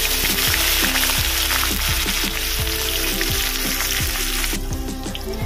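Chopped onion frying in a hot pan with whole spices for a crab malai curry, a loud continuous close sizzle with soft stirring scrapes, steady throughout and dropping slightly at the end.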